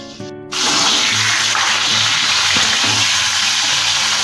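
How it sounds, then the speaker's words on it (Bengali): Potatoes frying in hot oil over a high gas flame, seasoned with salt and turmeric, giving a loud, continuous close sizzle that starts abruptly and holds steady; a faint hum sits underneath, with no speech. "গ্যাসের ফ্লেমটাকে হাই রেখে আলুগুলো ভেজে নেব।"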